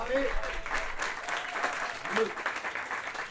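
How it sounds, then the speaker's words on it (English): A round of audience applause at a tennis hall of fame ceremony, steady dense clapping filling the room with brief faint voices or cheers mixed in. "Let's give Bobby Peacock a round of applause."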